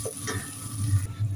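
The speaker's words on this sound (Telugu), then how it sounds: "ఉల్లిపాయలు కూడా వేగుతున్నాయి" Onions sizzle and fry in a pan while chicken curry is cooked, giving a steady close hiss with soft stirring crackle and no talking.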